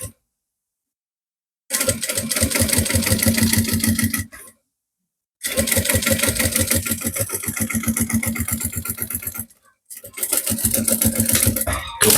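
Sewing machine running in three separate bursts while stitching a seam on a sublimated A4 tote bag and backstitching at the end, a steady close mechanical whir with rapid needle ticking and short quiet pauses between runs.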